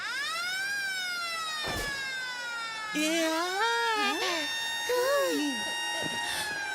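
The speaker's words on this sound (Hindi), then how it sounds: "जल्दी ह्यूमन अलर्ट सायरन बजा दो" A cartoon 'human alert' siren wails in a rising and falling electronic tone that repeats throughout, with voices chattering over it.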